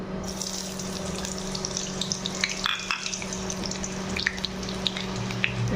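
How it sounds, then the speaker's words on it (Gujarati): Onion frying in hot oil in a pan, a dense continuous crackling sizzle with scattered pops and a low steady hum underneath. "તો આપણું તેલ ગરમ થઈ ગયું છે. તો હવે આપણે આમાં છે ને ડુંગળી નાખી દઈશું."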